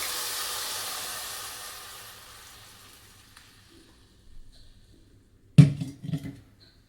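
Crumbled blood is poured into a hot pan for a blood fry: a fading hiss from the pan, a few quiet knocks, then a sudden loud sizzle burst that quickly settles.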